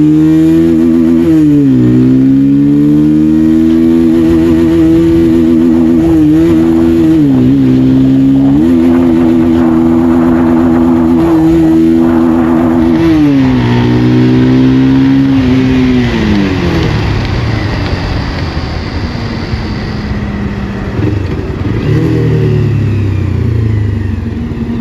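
Bajaj Pulsar 220F motorcycle accelerating hard toward top speed in third gear, loud steady engine drone climbing in pitch with rev fluctuations, close and continuous, no talk.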